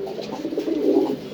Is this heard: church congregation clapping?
no